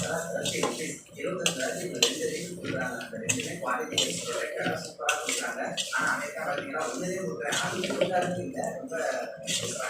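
Tamarind gets stirred in a pot in a home kitchen making sambar, with irregular scrapes and clinks of metal on the pot running almost continuously while a person talks over the cooking.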